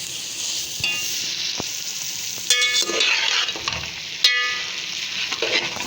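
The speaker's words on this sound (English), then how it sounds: "We will saute it more." Cabbage for a curry sizzles as it sautés in a pan, with a steady frying hiss broken by spoon scrapes and a few sharp clinks against the metal as it is stirred.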